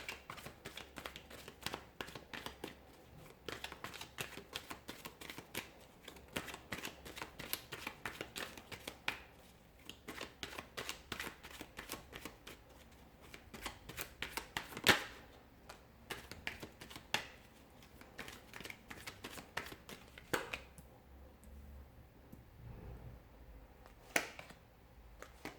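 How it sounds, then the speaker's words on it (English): Tarot cards are shuffled by hand in a rapid run of close, crisp riffling taps and flicks, with brief pauses and a louder snap partway through. "So we'll give the cards a shuffle"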